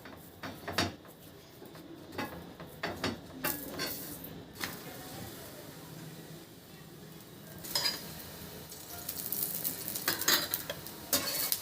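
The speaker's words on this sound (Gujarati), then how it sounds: "હવે આપણે એને તળશું થેપલાને।" Methi thepla flatbread fries in a pan over a low flame, with a gentle sizzle, spatula scrapes and a few sharp utensil clatters, the sizzling growing busier toward the end.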